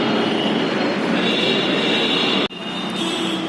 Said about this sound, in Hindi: ये है लेखराज मार्केट का मेट्रो स्टेशन